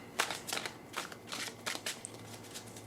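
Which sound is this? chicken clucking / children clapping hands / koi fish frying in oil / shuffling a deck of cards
shuffling a deck of cards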